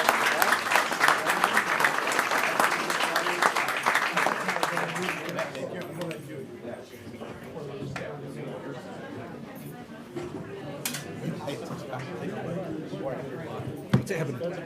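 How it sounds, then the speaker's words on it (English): Applause from the audience at a village board meeting rings out loud and dense for about five seconds, then thins into scattered clapping and crowd chatter with voices talking underneath. "we give them one more round of applause"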